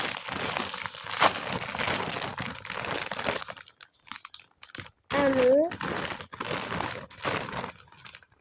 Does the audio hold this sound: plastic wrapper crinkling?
yes